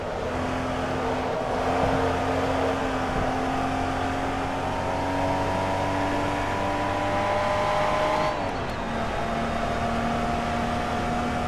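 Porsche 914/6 flat-six at full throttle in Forza Motorsport 2, a steady, droning engine note that climbs gradually in pitch, then drops sharply with a gear change and carries on, loud and continuous.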